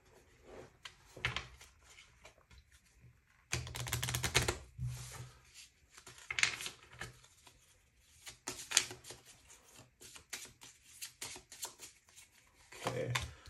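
Tarot cards riffled and shuffled in quick bursts of papery flutters and taps, close up, with short pauses between, no talking.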